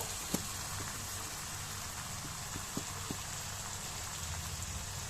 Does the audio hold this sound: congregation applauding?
no